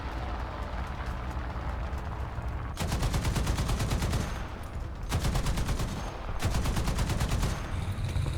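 Rapid bursts of .50 caliber machine gun fire from a T77E1 in War Thunder, three long strings, loud and continuous, separated by short pauses filled with rumbling background.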